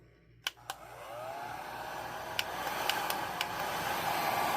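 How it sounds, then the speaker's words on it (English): Wagner heat gun on a high fan, low heat setting blowing over epoxy resin, a steady close airy roar after a couple of clicks as it starts up, rising slightly and continuing alone. "heat gun."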